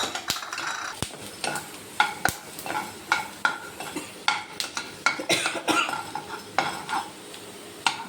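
Urad dal, coriander seeds and cumin frying in a pan as a spoon stirs them, giving a steady sizzle and repeated scraping clinks of metal on the pan, close and alone.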